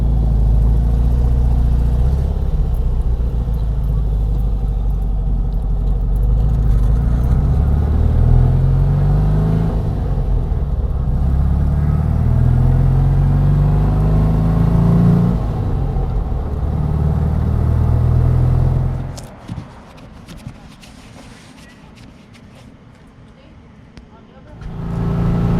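Wrecked Porsche 356 driving along the Pacific Coast Highway through Big Sur: a steady, close engine drone with shifting pitch and rising revs runs for most of the stretch, then drops out to a quieter lull before returning.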